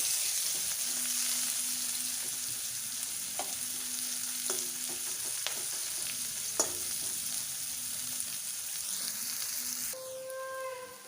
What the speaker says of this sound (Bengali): তেলের মধ্যে দিয়ে দেবো। পেঁয়াজটা একটু ভেজে নেব।